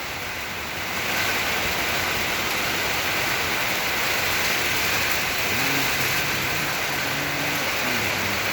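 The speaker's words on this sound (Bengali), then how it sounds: "যখন মন চাইতেছে বৃষ্টি আসতেছে" Rain falling during a journey, a loud, constant rushing hiss that swells in after the first second and holds steady, with a low droning hum joining in toward the end.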